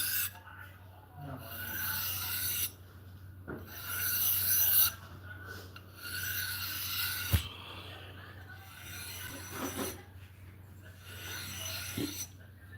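A knife is sharpened on a 2x72 belt grinder: several rasping, hissing passes against the running belt come in bursts separated by short pauses, close and steady in level.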